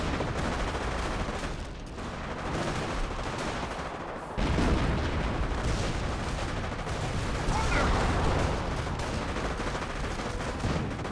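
Artillery barrage in the video game Company of Heroes, dense rumbling blasts and gunfire overlapping continuously, with a heavier burst partway through and a commentator's voice underneath.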